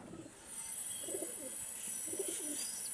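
Pigeons coo softly in low, rounded calls, a few soft phrases rising over a faint background hiss with no talking.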